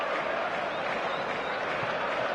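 Crowd noise fills a football stadium before a Manchester City versus Roma match, a steady broadband roar of many voices with scattered clapping, sustained and fairly loud throughout.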